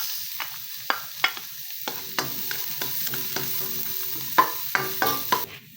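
Garlic and onion fry in sesame oil with a steady close sizzle, broken by sharp spatula taps and scrapes against the pan every second or so. No one speaks.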